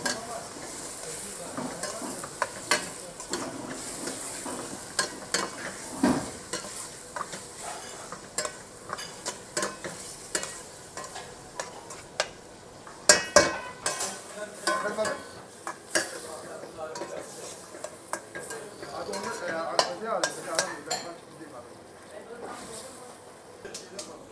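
Meat sears in a pan for an okra stew, giving a continuous close sizzle with frequent scraping and clattering stirs. A voice talks over it for much of the time.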